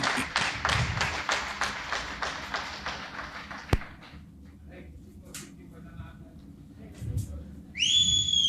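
An audience at an annual function claps in a brisk steady rhythm, then after a pause lets out a loud, sharp whistle aimed at a performer, with some voices mixed in.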